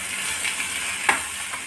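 Tomatoes stirred into potatoes and onions frying in a pan for aloo matar sabzi, giving a steady close sizzle with one sharp scrape of the spoon partway through.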